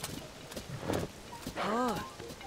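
A giant horse in Zelda: Tears of the Kingdom clip-clops with a few heavy hoof beats and a short whinny-like call, while someone speaks over it.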